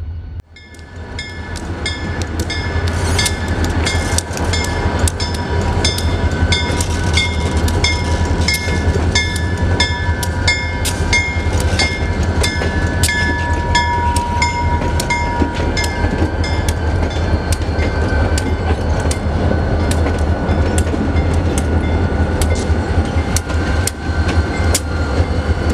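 A southbound train from the mill in Waterville, Maine rumbles past loudly and close by, its wheels clacking rhythmically over the rails beneath a steady mechanical drone that persists throughout.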